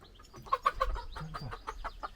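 A hen clucks in short, quick, close calls, a rapid series of soft bursts against quiet background.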